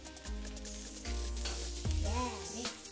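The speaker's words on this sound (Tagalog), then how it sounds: "Ilagay ang mantika at pag mainit na ito, igisa na natin ang bawang." Garlic sautéing in hot oil in a pan for ginisang adobo fried rice, a soft sizzle broken by clattering handling sounds and low tonal hums, with faint background noise.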